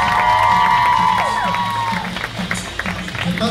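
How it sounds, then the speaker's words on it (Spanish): Crowd applause and cheering at a quinceañera celebration as a guest is introduced, with steady clapping, whoops and a tonal music-like line early on, fairly loud and near. "Aplausos para ella."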